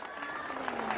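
Audience applause at a school award ceremony, a short steady wash of clapping from a crowd, heard at a moderate distance with voices mixed in.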